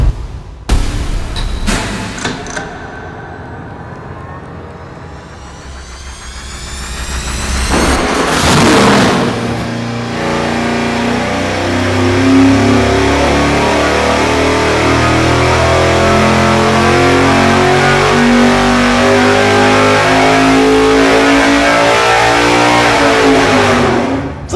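A car engine on a dynamometer during a baseline pull before a roller rocker arm test: a loud, steady roar climbs in pitch through a long sustained rev after a few short blips and a brief lull.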